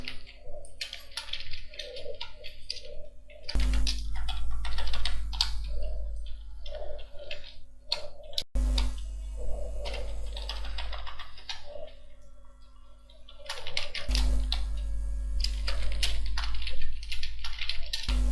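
Fingers type data into an Excel spreadsheet on a computer keyboard, quick bursts of crisp, close keystrokes separated by short pauses, over a faint steady electrical hum.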